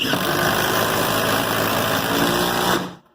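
A compact 12-volt cordless driver drives a small timber lock screw into wood, giving a loud, steady whir for almost three seconds before it cuts off sharply.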